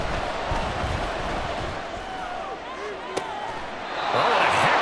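Stadium crowd noise in the Madden NFL 24 football video game, a loud continuous roar of spectators that swells near the end, with a commentator's voice running over it.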